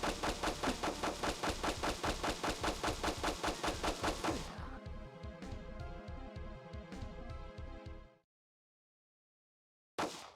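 Rapid machine gun fire in a retro video game, a dense, loud rattling burst of evenly spaced shots that thins into lighter clicking fire before cutting to silence, then one brief burst returns.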